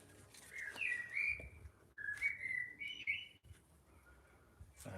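Birds sing and whistle in bright, rising phrases, a few bursts close together with short pauses, over quiet outdoor background.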